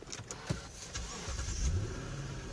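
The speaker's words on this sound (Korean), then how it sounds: "이 차는 이제 바로 시동부터 걸어보도록 할게요." A car engine cranks and catches, then settles into a steady idle hum, heard close up without talk.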